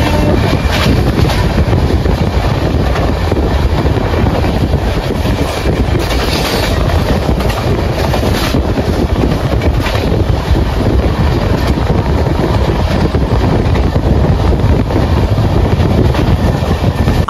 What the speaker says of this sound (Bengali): আমাদের ট্রেন এখন আলাদাই স্পিডে ছুটছে